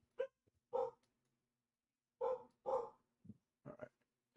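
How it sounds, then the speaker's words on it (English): A dog barks in several sharp bursts: two single barks, then a quick pair, followed by a few shorter yips, fairly close with quiet gaps between. "Sorry about the barking there"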